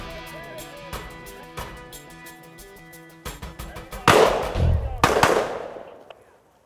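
Shotguns fire during an upland bird hunt: scattered quieter pops lead into two loud, close blasts about a second apart, with hunters talking outdoors.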